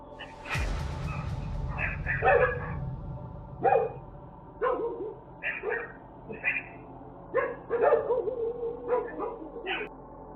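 A dog on security camera footage barks and yips repeatedly in short, irregular bursts at moderate distance, after a sharp thud near the start.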